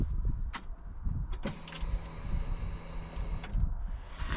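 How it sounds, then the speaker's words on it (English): Electric fuel pump on a Coleman Outfitter UT400 400cc UTV priming after the key is turned, a steady faint whine of about two seconds between soft clicks, over low outdoor rumble. "that noise you heard was the fuel pump priming."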